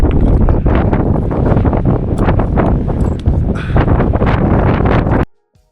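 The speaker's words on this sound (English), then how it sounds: "If you want a good demonstration of how effective trees are at blocking the wind, pay attention to this next bit of audio" Strong wind buffets the microphone on an exposed ridge near Gaylor Peak in Yosemite, a loud continuous roaring rush with gusting swells that cuts off abruptly at the end.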